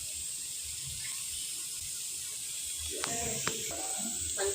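Spices for a Tamil home-style lunch sizzle as they are tempered in hot oil in a pan, a steady bright hiss running throughout, with a few sharper spits and crackles near the end and low background rumble.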